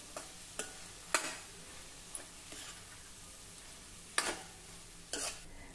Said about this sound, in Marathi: आता तेलावर या मसाल्यांसोबत ही कांदा पात देखील आपल्याला जरा परतून घ्यायची आहे